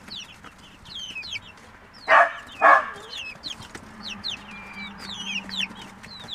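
Jersey Giant chickens cluck in a steady scatter of short, high calls close by, with a couple of louder squawking bursts partway through and no talk over them.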